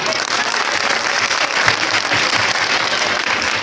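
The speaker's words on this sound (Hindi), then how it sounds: "तालियां जोरदार।" A quiz audience applauds, a dense, even burst of clapping from many hands that lasts throughout, with no speech standing out above it.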